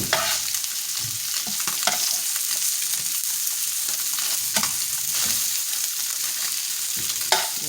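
Tilapia fillets for fish tacos fry crisp in a pan, a steady bright sizzle running throughout with occasional sharper crackles and stirring scrapes, close and alone without any talk.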